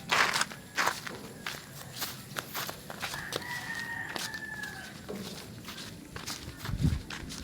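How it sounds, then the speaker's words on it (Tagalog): Footsteps crunch and shuffle nearby with an uneven rhythm through the clip, while a rooster crows and hens cluck in the background of a rural outdoor setting. "Ba't parang may naririnig ako naglalakad sa likuran natin?"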